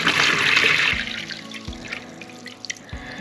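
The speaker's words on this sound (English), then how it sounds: "you take some warm water and you fill your bucket with warm water" Warm water pours into a bucket with a bright splashing rush at first, then settles into gurgles and a few distinct drips and plops.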